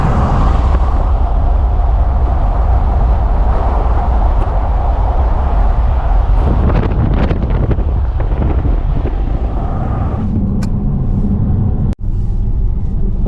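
Strong wind buffets an open car window while driving toward snowy mountains, a loud continuous roar of rushing air with shifting gusts.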